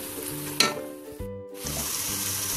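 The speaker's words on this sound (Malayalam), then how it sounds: "ഇനി ഇതിലേക്ക് പച്ചമുളക് ചതച്ച് വെച്ചൊന്ന് ചേർത്ത് കൊടുക്കാം. എന്നിട്ട് ഇതിൻ്റെ പച്ച സ്മെല് മാറുന്ന വരെ ഒന്ന് വഴറ്റി കൊടുക്കാം." Crushed green chilli and onion sautéing for a Malabar chicken dum biryani, a steady sizzle with stirring scrapes and a brief sharper clatter partway through, close and fairly loud with no talk.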